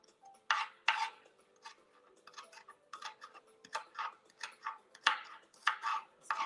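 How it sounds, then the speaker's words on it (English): An onion chopped with a knife on a cutting board for spaghetti and ground beef: quiet, close, irregular knocks in short bursts, then a quicker steady run of chops. "Get this onion cut up."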